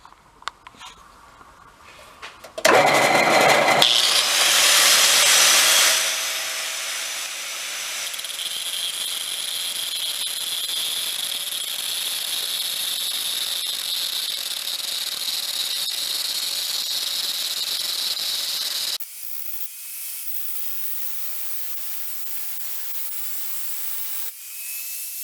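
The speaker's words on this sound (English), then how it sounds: "Let's see if we can tune it up with a cutting disc." An angle grinder with a cutting disc working a machine part for a rusty fuel tank, a loud sustained high whine after a brief burst of cutting, then dropping to a quieter hum near the end.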